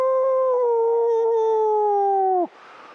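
A person's voice imitates a wolf's howl: one long, loud, sustained wavering tone that holds steady, then drops off sharply at the end into faint background noise.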